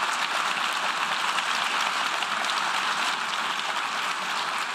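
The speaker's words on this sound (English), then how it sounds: "Applause erupted even before the results could be read." Sustained applause fills a large assembly hall at the UN General Assembly as a resolution on Russia's invasion of Ukraine is adopted, a dense steady roar of many clapping hands with no voices over it.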